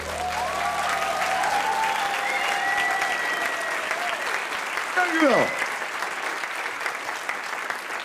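Theatre audience in Delft applauding steadily after a song at a live stage show, with a performer's voice briefly speaking over the dense clapping.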